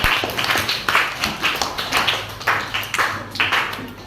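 A school class claps hands together in a steady run of quick, bright claps that lasts the whole stretch. No voices are heard over it.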